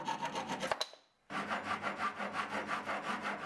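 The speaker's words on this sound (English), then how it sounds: "I trimmed the excess with my Japanese saw." A Japanese pull saw cuts off excess solid wood trim on a bookcase in quick, even rasping strokes, a short pause breaking the run before the sawing resumes at the same rhythm.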